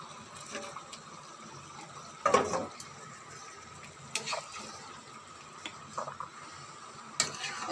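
Fish curry gravy with half-cooked potatoes bubbling in a pot as pieces of fish go in: a soft, steady simmer with occasional splashes and light clatter of utensils, quiet and close, no talking.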